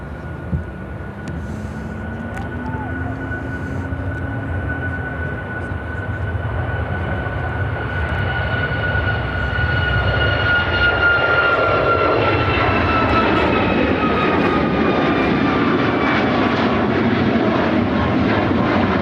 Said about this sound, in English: This is American Airlines 1511 taking off to Miami on the MAX 8.